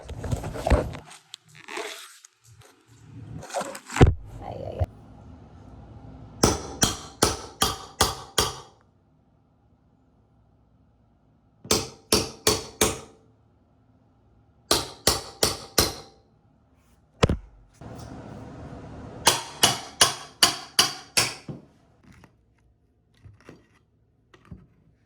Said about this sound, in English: Take this tool and then a hammer